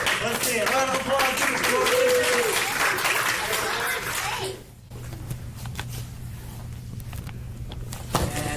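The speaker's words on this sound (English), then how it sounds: "Round of applause." A burst of enthusiastic clapping and applause from a small group at a martial arts academy seminar fills the first few seconds, then fades into quieter room noise with voices.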